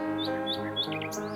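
A golden bird in a cartoon chirps and twitters in quick, bright bursts over sustained, soft, lullaby-like musical tones.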